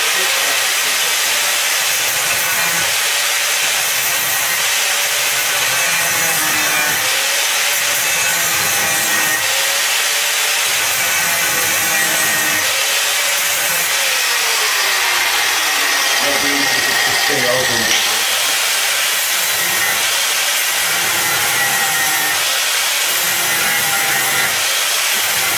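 Hand saw cutting through scrap wood for a DIY wheelbarrow, a continuous loud rasping with steady back-and-forth strokes, close up, with a voice speaking over it at times.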